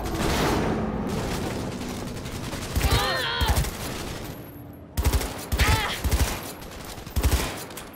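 Police opening fire in Cyberpunk 2077: repeated bursts of gunshots in clusters, sharp and loud, separated by short pauses over steady background rumble, with voices in the mix.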